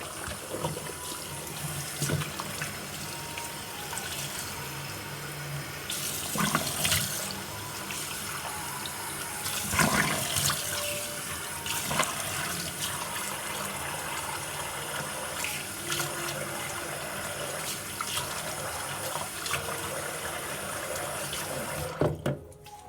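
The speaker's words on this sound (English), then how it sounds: "I'm going to rinse." Tap water running into a sink while a face is rinsed, a steady close rush of water with splashes and hand movements, stopping abruptly at the end.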